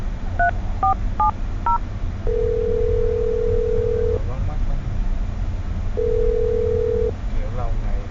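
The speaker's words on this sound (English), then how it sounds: "Let's dial the phone number right now." A telephone number is dialed as a quick run of DTMF keypad tones, followed by two long steady tones with a pause between them, all over a low background rumble.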